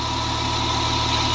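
Romanian-made Farmer 533 tractor, 65 horsepower, idling with a steady, close, unbroken mechanical hum and a faint regular throb, no voices.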